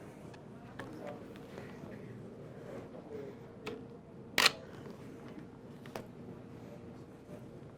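A single camera shutter fires with a flash during a one-light portrait session in a studio, a short sharp click standing out once against the quiet room, with faint background voices around it.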